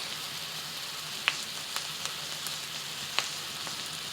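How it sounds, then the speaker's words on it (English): Onions fry in a pan on a stove while cooking down for a burger-and-gravy rice dish: a steady, fairly faint sizzle with a few sharp pops and spatters, no voices. "You just want to cook it for about 2 to 3 minutes until the onions are a bit translucent."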